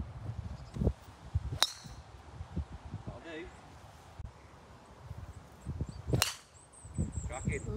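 Golf club strikes on a fairway, sharp cracks rising from the field, one loud hit near the middle and another late, with outdoor rustle and voices talking around the shots.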